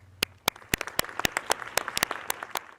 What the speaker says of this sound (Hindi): एक बार ज़ोरदार तालियों से इनका अभिनंदन करें